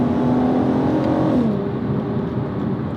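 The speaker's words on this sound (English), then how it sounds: "shift back to second, and listen to that VR6" A Volkswagen Golf MK5 R32 with a VR6 engine pulls hard under full throttle in second gear, a loud, steady engine drone climbing in pitch, then briefly easing as revs settle.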